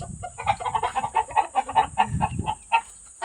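A bantam hen clucks in quick repeated bursts, close and loud, with a steady rhythm of short calls and no talking over it.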